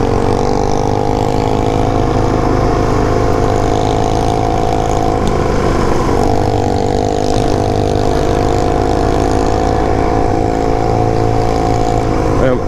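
A DRZ400 dual-sport motorcycle with knobby tires chugs along at low revs over rocky ground, its steady mid-pitched engine drone continuous and close throughout, with slight variations in load.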